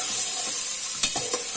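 Vegetables sautéing in a pan for vegetable fried rice, a steady close sizzle with occasional stirring scrapes and clinks.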